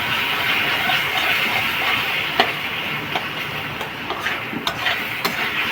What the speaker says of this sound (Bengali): পুরো তরকারিটা মাখিয়ে দেবো।